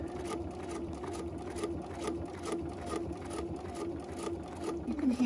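Sewing machine top stitching through thick faux leather, a steady close, continuous mechanical whirr with even stitch pulses that labors slightly as the needle pulls the material through.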